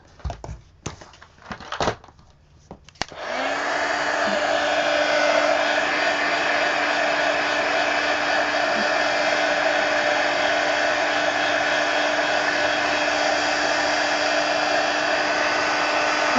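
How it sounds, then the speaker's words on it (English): After a few taps and clunks, a hair dryer switches on and blows steadily at close range, a loud, even whoosh with a constant motor hum as it dries a mixed-media art journal page. "All right, let's dry all this."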